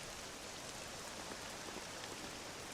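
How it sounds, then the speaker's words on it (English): Steady rain falling in the Dragon Quest VII game, a faint, even hiss of dense raindrops with no change in rhythm and no voices. "This accursed rain'll chill ye to the bone."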